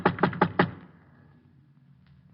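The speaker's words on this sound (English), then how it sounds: "I went up and knocked on his door." Four firm knocks on the door of an old brownstone come in a quick, even series, loud and close, followed by a quiet pause.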